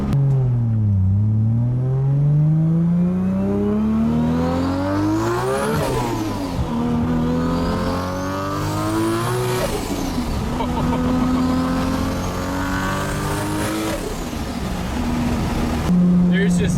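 A powerful Toyota Supra 2JZ engine, turbocharged at 55 psi, revs repeatedly toward 9500 rpm, pitch sweeping up and down through several loud climbs, close and continuous.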